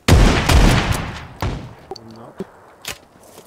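Video game gunfire bursts out in loud, rapid shots at first, then a few scattered, sharper cracks and thuds trail off, with brief faint voices.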